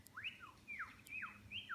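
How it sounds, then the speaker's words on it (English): A lyrebird calls along a quiet track, a faint run of four rising and falling whistled notes repeated in quick succession over low background hush. "I can hear that lyrebird now."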